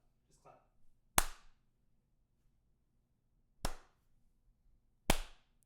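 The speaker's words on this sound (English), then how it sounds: "Just clap." Three sharp, isolated hand claps ring out a couple of seconds apart in a quiet room, each a crisp single slap, with a faint murmur of voices just before the first.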